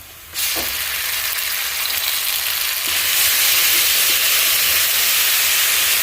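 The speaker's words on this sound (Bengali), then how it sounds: "এখন দিয়ে দেবো আদা রসুন," Ginger garlic paste hits oil with fried onions and garam masala for chicken curry, a sudden hiss that settles into a steady, loud sizzle and grows fuller toward the end.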